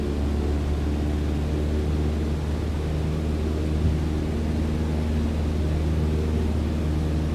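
A light aircraft engine in a flight simulator is throttled up for taxiing, giving a steady, constant drone with a low hum and tonal whine that holds evenly throughout, no voices.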